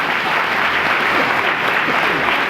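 An audience at a business presentation applauds, a dense, even wash of many hands clapping together, steady and fairly loud throughout.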